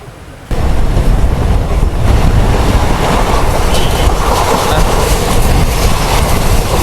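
Mangaluru Central Express pulling out of Pondicherry, a loud, steady rumble of wagons and wheels clattering on the rails that starts abruptly and continues without pause.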